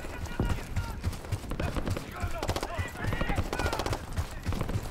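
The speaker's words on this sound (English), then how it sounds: "We've got gunfire to the right." Gunfire in the video game Call of Duty Black Ops 6, heard as rapid bursts of sharp cracks and automatic fire. Moderately loud, it runs mixed with battlefield clatter for several seconds.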